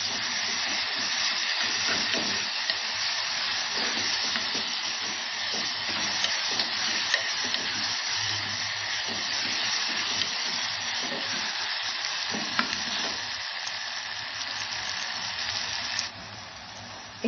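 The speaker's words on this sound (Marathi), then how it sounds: "आलं लसूण पेस्टचा कचटपणा जाईपर्यंत आपण छान परतून घ्यायची होती." Ginger garlic paste sautés in a hot pan for chicken kheema pulao with a steady, loud hiss and sizzle that runs unbroken throughout, marked by occasional faint clicks of stirring and no talking.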